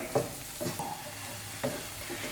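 Spices, green chillies and egg sautéing in a pan for egg bhurji, a quiet sizzle broken by a few short scrapes and stirs of a spoon.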